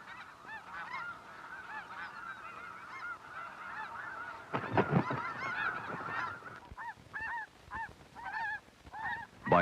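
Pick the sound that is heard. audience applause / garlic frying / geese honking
geese honking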